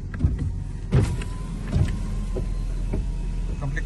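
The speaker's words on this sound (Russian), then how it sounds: "опустим окошки" Power windows lowering on a Ford Focus 2 (Ghia trim), with a steady electric motor whir and a few soft clunks inside the car, close and clear with no talk.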